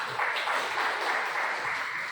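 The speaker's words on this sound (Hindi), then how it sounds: "जोरदार तालियों से स्वागत कीजिए।" Audience applause welcoming a speaker at a seminar held on the eve of Deendayal's birth anniversary at the Rajasthan Sahitya Akademi in Udaipur. The dense, even clapping carries steadily at moderate volume and no one speaks over it.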